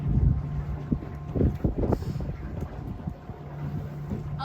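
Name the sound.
Candela C8 electric hydrofoil powerboat motor running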